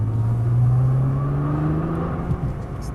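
Nissan GT-R of 550 hp accelerating on a race track, a loud steady engine drone rising slightly in pitch from inside the car, then easing off near the end, no talking.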